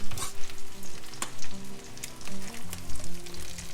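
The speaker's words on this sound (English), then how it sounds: "I warm up the burger mass next to the meat patties." Kangaroo burger patties frying in a pan alongside warming burger mix, a loud, close, crackling sizzle that swells and pops irregularly with occasional utensil scrapes, no one speaking.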